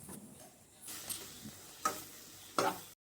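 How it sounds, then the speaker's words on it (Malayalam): Onions sautéing in oil left over from frying prawns for a prawn roast, a soft sizzle broken by a few distinct stirring scrapes, fairly quiet and close. "നമ്മുടെ ചെമ്മീൻ ഫ്രൈ ചെയ്ത അതേ എണ്ണയിലേക്ക് തന്നെ നമുക്ക് കുറച്ച് ഓണിയൻ ഇടാം. നമുക്ക് നന്നായിട്ടൊന്ന് വഴറ്റിയെടുക്കാം കേട്ടോ."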